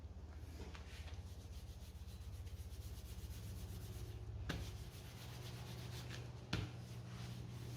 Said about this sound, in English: I use a slightly damp microfiber cloth to give the outside cover a bit of a clean